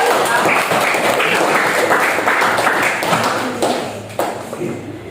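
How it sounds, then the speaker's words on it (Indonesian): Children in a school classroom clap for a classmate, a loud burst of dense, fast applause that holds for several seconds and then thins out, with a few voices mixed in. "Oke, yuk berikan tepuk tangan."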